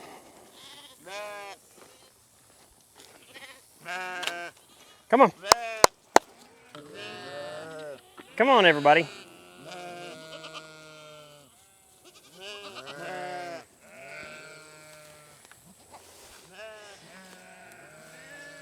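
Sheep bleat repeatedly in a pasture, several loud, wavering calls rising and falling at varying distances, with goats nearby and a person calling to the flock between the bleats.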